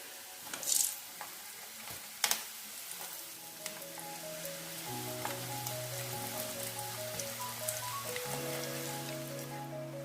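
Masala peanuts frying in a pan of boiling oil, a steady dense sizzle with crackling bursts and a few clinks of stirring, close and continuous with background music tones beneath.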